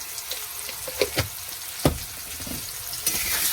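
Potatoes with turmeric and salt sizzle in a pan with a constant hiss, broken by a few sharp clinks and scrapes of a spatula stirring them.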